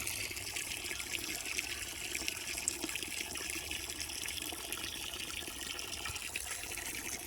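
Water running steadily into a pet's water dish, a continuous trickling, splashing fill that holds an even level throughout with no talking.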